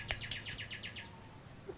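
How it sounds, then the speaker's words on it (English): A baby bird in a back yard chirps in quick high tweets, a short burst of several notes followed by a few isolated calls, faint against quiet outdoor background. "Baby bird."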